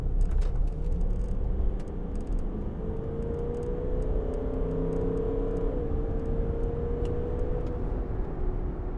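Engine note of a 2012 Range Rover TD V8 Vogue diesel rising as the throttle opens, a steady whirring rumble climbing in pitch under road and interior noise, heard from inside the cabin.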